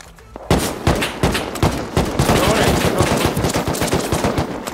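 An automated turret in the survival game Rust fires loud, rapid bursts of gunshots, sharp cracks repeating in quick succession almost nonstop for several seconds after a brief quiet start.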